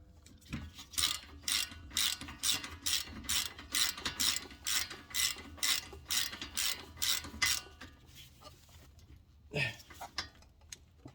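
A ratchet tightens front brake parts on a Dodge Charger SXT during a pad and rotor change, clicking in about a dozen quick rhythmic bursts up close, then pausing before one last pull.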